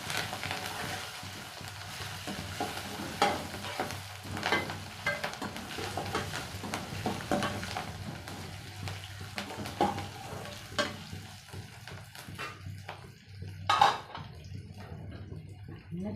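Curry leaves sauté in a pan, giving a steady moderate sizzle with scattered spatters and occasional stirring scrapes, one louder clatter near the end.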